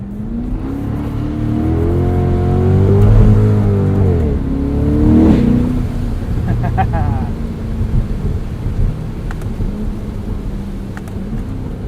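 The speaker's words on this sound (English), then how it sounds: "this is how you Corvette in the wintertime. Top down, sideways in the snow." Corvette convertible with the top down sliding sideways through snow in winter, engine revving and surging loudly up close for several seconds before settling into a steady rumble.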